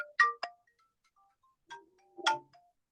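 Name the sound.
telephone ringing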